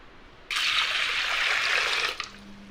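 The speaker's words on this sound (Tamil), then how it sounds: "இதுக்கு தேவையான அளவு தண்ணி ஊற்றி வேக வச்சு எடுத்துக்கலாம்" Water poured into a cooking pot after washing urad dal for a kulambu, a steady splashing rush lasting under two seconds, close and fairly loud, then stopping abruptly.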